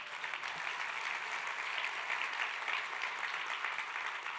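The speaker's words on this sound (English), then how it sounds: "Yeah, that's worth an applause." Dense, steady applause from a large audience at a business talk, a continuous wash of many hands clapping without pause from start to end.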